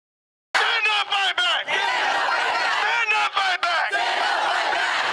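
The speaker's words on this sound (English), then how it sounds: "An impassioned crowd of over 100 students, faculty, and staff from both Florida State and Florida A&M." A crowd of over a hundred students, faculty and staff from Florida State and Florida A&M shouts and chants loudly at a protest, a dense, continuous roar of raised voices with brief dips between bursts.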